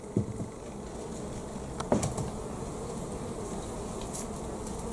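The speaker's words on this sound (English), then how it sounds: "I can see the bees buzzing around here, no problem" Honey bees buzz steadily around an open comb at a beekeeper's hive, a soft continuous drone close by with a couple of brief louder bumps and no talking.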